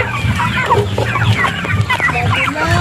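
Chickens cluck repeatedly around a coconut-leaf nest and drinking spot, several birds overlapping in busy, close, fairly loud calls with no talk.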